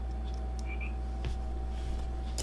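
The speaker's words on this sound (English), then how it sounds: "it's just a frog in the background" A frog croaks in the background outdoors while someone works on a small action camera, giving a few faint, brief calls over a steady hum and low room noise, with no talking.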